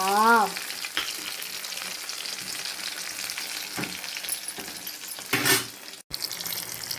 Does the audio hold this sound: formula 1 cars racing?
no